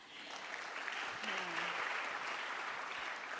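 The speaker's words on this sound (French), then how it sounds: "Je pense qu'on peut vous applaudir." Applause from a conference audience at an annual renewable-energy colloquium, a soft, diffuse wash of clapping heard at a distance and sustained evenly throughout, with a faint voice briefly audible in the middle.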